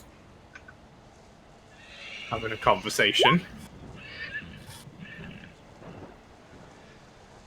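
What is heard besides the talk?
horse galloping and neighing, skeletal warhorse in D&D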